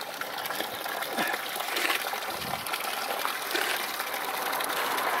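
Spring water gushes and splashes continuously at Shucknall Spring, a steady outdoor flow with a bright hiss, fairly soft and close.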